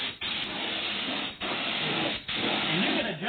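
An air spray gun lays a second coat of paint on an excavator, a steady loud hiss of compressed air broken by two brief pauses as the trigger releases between back-and-forth passes.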